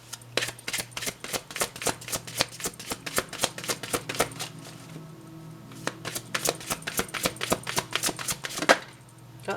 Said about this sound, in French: Je vais déjà mélanger les cartes.